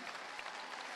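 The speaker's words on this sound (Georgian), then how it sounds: "განსაკუთრებული აპლოდისმენტები დროშებით თანაც." Dense audience applause at a school award ceremony where flags are waved, steady and moderately loud for the whole moment.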